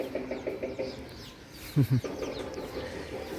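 A few short, soft clucks from chickens, faint and somewhat distant, with a brief louder pair of calls midway over low outdoor background noise.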